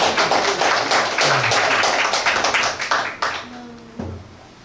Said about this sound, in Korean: 박수, 큰 박수를 맞으세요.